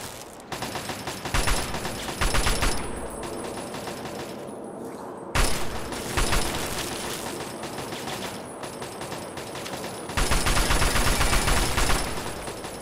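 Rapid bursts of turret machine-gun fire in Fallout 3, loud, dense rattling volleys that come in several long strings with brief lulls between them, no voices over them.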